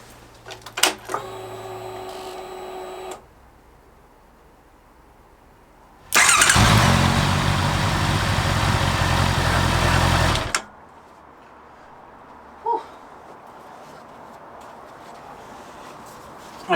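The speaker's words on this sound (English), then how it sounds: "I'll start the engine, let it run for a minute or so" A Honda CB650R motorcycle started after hibernation: a short whirring hum and click, a pause, then a loud steady engine roar lasting about four seconds that abruptly stops, followed by quiet with a faint tick.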